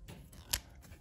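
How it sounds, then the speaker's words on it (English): Scissors snipping through craft foam, heard as one crisp close cut amid faint handling rustle, quiet overall. "So I'm gonna finish cutting this out."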